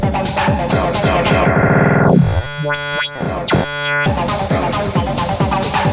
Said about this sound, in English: We got some other ones like Looper.